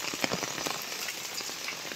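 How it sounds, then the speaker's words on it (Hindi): Steady rain pours down in a village during the morning, a constant hiss of drops falling on surfaces without pause, with no one speaking. "देखिए कैसे बारिश हो रही है"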